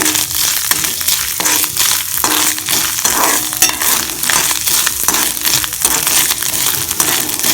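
Grated coconut and dried red chillies roast in a hot pan with chana dal, giving a steady dry crackle with scraping and stirring, close and fairly loud, without any voices.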